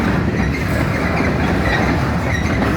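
A freight train of hopper cars rolling past close by, a continuous loud roar of wheels and rattling cars with a rhythmic clickety-clack and occasional wheel squeal, no talk.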